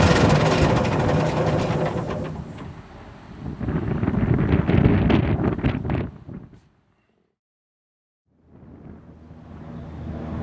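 Soft-top hood of a 1924 Dodge 116 Tourer being folded down outdoors, a loud stretch of rustling fabric and frame handling buffeted by wind, then a brief silence before more handling noise resumes.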